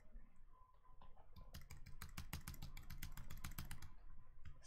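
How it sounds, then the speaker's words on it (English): A computer keyboard is hammered in a fast flurry of clicks, sharp key presses packed densely together for a few seconds after a quieter start, close and fairly soft. "Spam my keyboard there."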